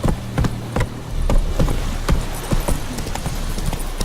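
Roach, the horse in The Witcher 3, gallops along with quick, rhythmic hoofbeats that are sharp and fairly close, repeating steadily over a low background.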